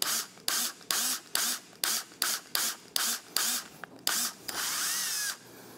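A power drill with a number 4 bit bores a hole during a café handlebar kit install on a 2024 Triumph Speed Twin 1200. About ten short, evenly spaced whirring bursts end in one longer continuous run.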